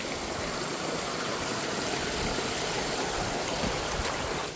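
A waterfall at a campsite rushes in a steady, loud, broadband roar that fills the whole clip, with no voices over it.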